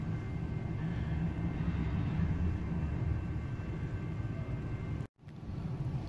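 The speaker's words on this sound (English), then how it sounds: "Will the train keep going?" A train rolls slowly across the tracks, heard as a low continuous rumble from some distance that holds steady before a sudden brief cutout near the end.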